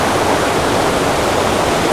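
A loud, constant roar of falling water from a waterfall, a dense unbroken rush close to the listener with no other sounds.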